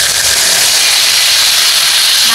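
Country duck meat with potatoes sizzles loudly as it is stir-fried in a pan, a steady, dense hiss that fills the whole stretch without a break.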